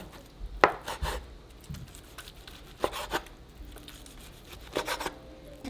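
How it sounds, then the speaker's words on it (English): A knife chops a pile of cooked al pastor meat repeatedly on a cutting board in uneven bursts of sharp thuds, close by, with pauses between sets of strokes. "now we're just going to pile them up a little and start chopping"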